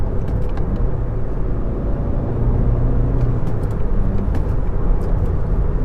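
Steady engine and road rumble from a 2015 Volkswagen Golf GTI with a turbo and manual shifter while driving, loud and continuous with no talking.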